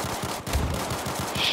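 Rapid automatic gunfire in the Battlefield 4 multiplayer game, a dense rattling burst of shots throughout, loud and close, with no talking.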